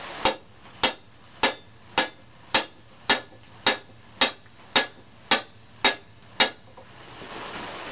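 A hammer strikes a hot forged bar end to upset it while making a survival froe, eleven sharp ringing blows at a steady, even rhythm, close and loud, then the workshop falls quiet.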